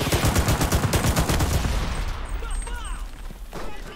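Rapid bursts of gunfire and a grenade explosion in the Enlisted combat game, a loud dense fusillade rattling for about two seconds, then fading into quieter distant battle noise.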